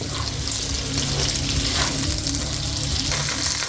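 Spring onions fry in hot oil, a steady close-up sizzle with crackling spatter that holds throughout, a brief watery tap-like wash near the end.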